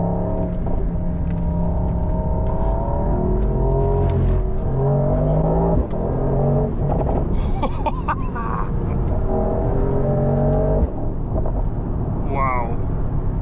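A 2026 Mercedes-AMG GT 63 PRO engine roars close and loud on a mountain road, rising through the gears with brief dips at shifts, while people talk over it.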